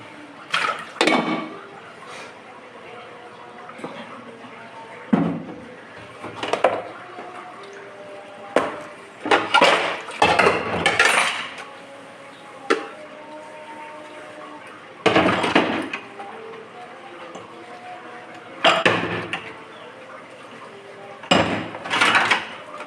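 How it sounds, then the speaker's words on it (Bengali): Dirty dishes being washed after a meal, with intermittent clinks and clatters of plates and pots and splashing water in separate bursts across a quiet background. "বেশ থালা বাসন জমা হয়ে গেছে খাওয়ার পরে, ধুয়ে নিই।"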